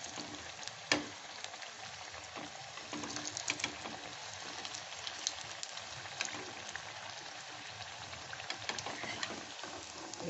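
Stuffed cabbage cutlets frying in oil in a pan, a steady close sizzle and crackle with small pops throughout, no talking.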